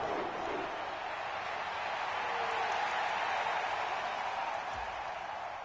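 A stadium crowd in a PS4 American football video game roars in a broad, steady wash of cheering that swells slightly through the middle and holds loud throughout.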